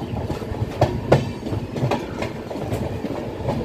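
A double decker Uday Express train rolls along the line between Visakhapatnam and Vijayawada, its wheels clacking in a steady rhythm of sharp beats over a continuous rumble, heard from on board.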